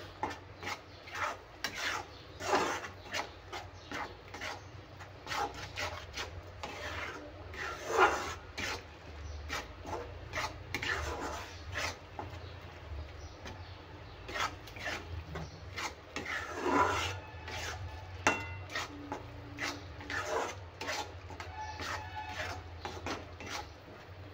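Masala roasting in oil in a pan, stirred continuously with a utensil: repeated rasping scrapes against the pan bottom in an uneven rhythm over a low background sizzle, close and moderately quiet.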